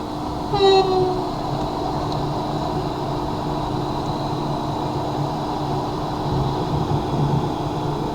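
A train runs in Train Sim World 5 with a steady rumbling drone of rolling wagons, a short horn blast sounding early on, and faint clicking over the rails.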